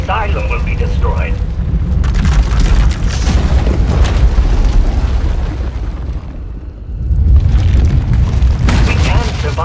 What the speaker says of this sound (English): Her power is racing out of control. When it erupts, the entire asylum will be destroyed.